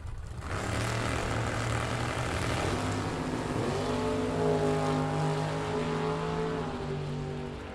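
A 2000 Chevrolet Camaro and a '67 Chevy II in a bracket drag race at the Firecracker Bracket Nationals, engines roaring loud and continuous as they launch, pitch rising as the cars pull away.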